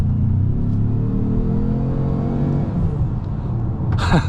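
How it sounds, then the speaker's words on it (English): A 2025 Ford Maverick Lobo accelerates hard, its engine note climbing steadily with a loud turbo whoosh, close and continuous, ending in a brief sharp hiss as the throttle lifts. "The car has a really loud turbo whooshing sound in pretty much any single drive mode there."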